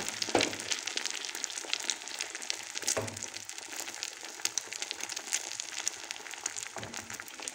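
An egg fries in a pan with a little oil, giving a steady, dense crackling sizzle throughout, with a few faint clinks and no voices.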